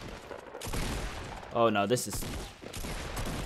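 Bursts of gunfire from the Fortnite video game crackle at moderate loudness in quick volleys, with a short spoken exclamation over the shooting partway through.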